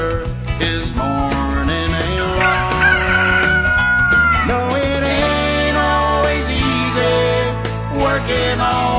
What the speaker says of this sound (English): The sound of a rooster is morning.